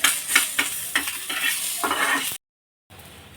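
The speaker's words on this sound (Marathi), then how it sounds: "आणि मस्त असा हा कांदा सोनेरी रंग येईपर्यंत भाजून घ्यायचा" Chopped onion frying in hot oil as a utensil stirs it in several scraping strokes over a steady sizzle, then a brief cut to silence and a quieter return of sizzling.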